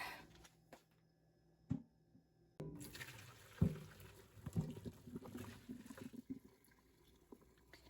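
Pasta water drains from a pot into a kitchen sink, a soft, low splash that starts after a short quiet gap and continues with faint gurgling and clatter.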